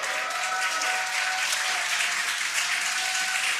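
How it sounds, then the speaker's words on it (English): A crowd applauds and cheers continuously as the SpaceX Dragon Freedom capsule returns to Earth, a steady, even roar of clapping heard from a distance. "You can hear the crowd here."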